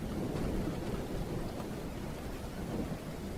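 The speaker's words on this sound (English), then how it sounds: "It's raining like super hard." Heavy rain pours steadily outside a window in a dense, unbroken hiss with a low rumbling undertone that could be distant thunder, heard alone.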